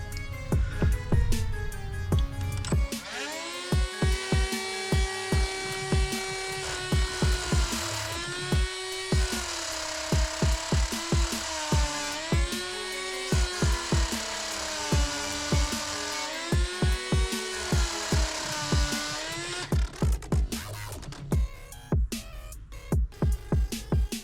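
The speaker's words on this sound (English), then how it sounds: "I'm gonna have to Dremel a slot across it." A Dremel rotary tool cuts a slot across a part of a Daiwa Catalina 5000H fishing reel during a teardown, a loud, close, high-pitched whine that holds for long stretches, with pitch dipping under load and rapid clicking starts and stops.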